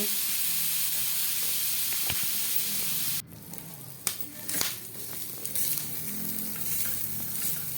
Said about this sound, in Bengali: এবার এইটা আমি ভালো করে ভেজে নেব